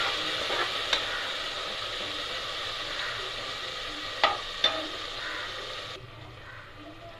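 Tomatoes sautéing in a pan, a steady close sizzle and hiss with a few sharp spoon taps and scrapes, then the frying noise drops suddenly near the end; no voices.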